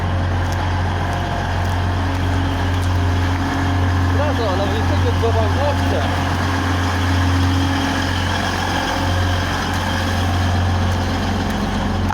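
A train pulls out of Beeston station with a steady, loud low-pitched engine drone and rumble throughout, while people talk over it nearby.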